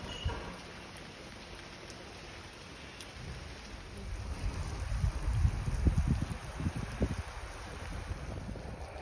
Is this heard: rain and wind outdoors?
yes